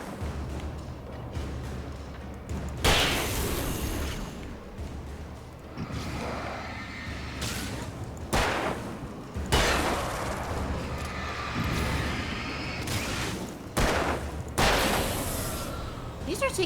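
Gunfire in the horror action game Alan Wake: several loud bursts of shots and impacts recur across the stretch, set against a dark, rumbling game ambience with a voice talking in between.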